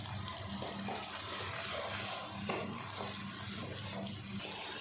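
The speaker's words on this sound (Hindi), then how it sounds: "थोड़ा सा पानी मैंने और डाला है मसाले को अच्छे से भुनाई करने के लिए।" A splash of water hits spices frying for a mixed vegetable curry seasoned with turmeric, red chili powder and salt, giving a steady, even sizzling hiss with no talk.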